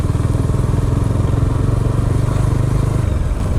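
Bajaj Dominar 400 motorcycle being ridden, its engine droning steadily and loud up close with a throbbing low rumble throughout, no talk over it.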